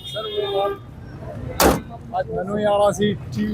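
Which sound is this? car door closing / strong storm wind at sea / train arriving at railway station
car door closing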